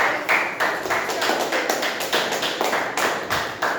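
Applause fills the room at a Toastmasters meeting as an audience welcomes a speaker and his evaluator: a fairly close, steady run of hand claps with a loosely regular pulse, and no voices.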